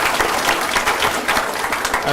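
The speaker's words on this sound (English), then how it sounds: "let's just give everyone associated with that a big round of applause" Attendees at a board meeting give a round of applause, a steady wash of clapping hands throughout, fairly loud and sustained with no clear pauses.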